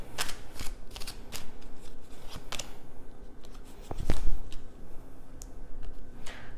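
Angel cards are shuffled by hand, a close run of rapid papery riffles and snaps that continues steadily with a short louder thump midway.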